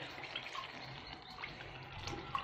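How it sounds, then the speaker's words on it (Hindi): Water poured into a pan of okra gravy on the stove gives a steady, soft liquid rush with faint splashes and a small drip near the end, close by and alone without any talk. "इसमें थोड़ा सा पानी ऐड करेंगे"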